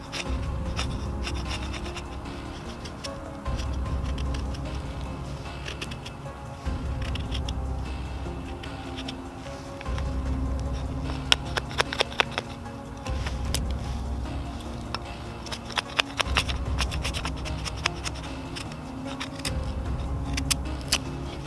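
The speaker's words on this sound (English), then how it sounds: "let's go ahead and get some shavings of the fat wood here" Knife scraping shavings from tough, resin-soaked fatwood pine outdoors, a continuous close rasping scrape in repeated strokes with occasional sharper clicks, set against a low rumbling background.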